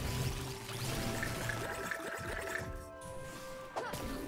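Water pouring from a watering can in the farming video game No Place Like Home, a soft steady trickling stream that tapers off, accompanied by light game music tones in the background.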